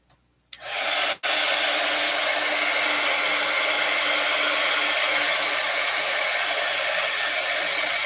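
A handheld heat tool or hair dryer blows steadily on a distress ink Halloween background for card making, a loud, constant whooshing roar that starts abruptly after a brief click and runs alone with no talking.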